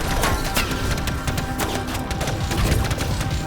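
Rapid, overlapping video game gunshots and impacts rattle continuously, loud and busy throughout with no pauses.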